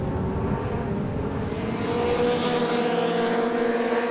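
Legends race cars roar down the straight at a Scottish circuit, with a continuous loud engine whine building and shifting as they pass, no voices.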